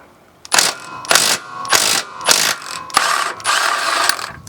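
An impact tool with an 18 millimeter socket works a lower control arm bolt on a 2012-2015 Volkswagen Passat TDI, firing five or six loud, close, rattling bursts separated by brief pauses, with no talk.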